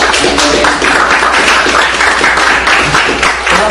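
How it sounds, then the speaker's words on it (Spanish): Sustained applause from a church congregation, a dense wash of clapping that holds steady for a few seconds. "Den un buen aplauso."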